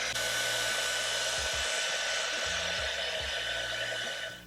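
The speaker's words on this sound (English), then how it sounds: "next we're going to blow dry our hair on a medium hot setting" A hair dryer on a medium hot setting blows steadily and loudly for several seconds, with a low motor hum wavering as the airflow shifts while drying hair, and no voices.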